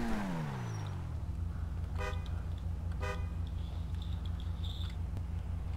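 A car horn in the video game GTA 5 Online sounds two short, separate honks about a second apart, close and clear over a steady engine idle after an engine whine drops away.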